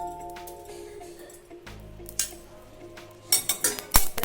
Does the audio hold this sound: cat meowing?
no